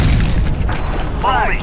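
A frag grenade explodes in a military shooter video game, a loud, heavy, rumbling boom that fades, with a soldier's voice calling out briefly near the end.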